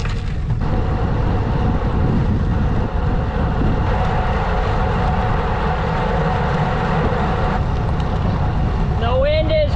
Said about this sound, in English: The wind is f***ing awful.